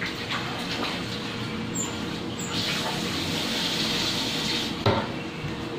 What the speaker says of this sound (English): Need to wash everything thoroughly, so every dirt is removed.